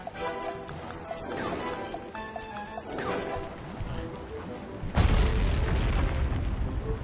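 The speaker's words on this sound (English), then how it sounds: "Place the dynamite when you get near the anchor, or kaboom!" A dynamite blast in the Sly 3 video game, set near an anchor on the Venetian skyline, booms in loudly at about five seconds over a busy bed of game music and effects, then a dense roar keeps going to the end.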